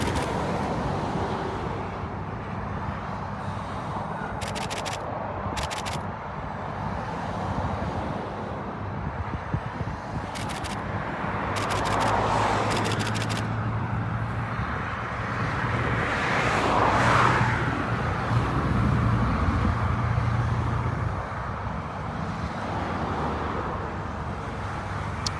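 Lorries and traffic on the M20 motorway, a continuous low rumble of engines and tyres with wind buffeting and a few brief sharp clatters, vehicles passing at moderate distance.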